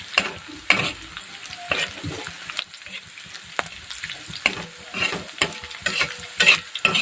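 Long chillies fry in hot oil for a fenugreek-greens dish, a steady close sizzle broken by repeated scraping stirs of the spatula in the pan, with no talk.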